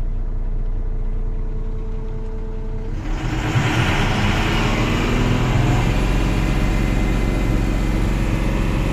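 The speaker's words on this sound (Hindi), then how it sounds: "रेस करके देखते हैं फुल रेस हो रहा कि नहीं" An Ashok Leyland BS4 truck diesel engine with a sensor fault idles steadily, then is revved hard after about three seconds, rising into a loud, sustained high-RPM roar that holds until the end.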